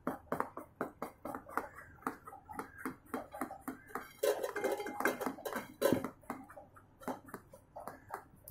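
A spoon mixes eggless cake batter with Eno in a bowl, giving rapid, steady clinks and scrapes against the bowl's side with brief louder bursts, close by and with no talking.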